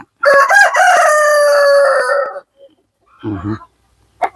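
A Light Sussex rooster, a laying breed kept in a small farm flock, crows loudly and close by in one long drawn-out call, followed by a few short low clucks and a brief final sound.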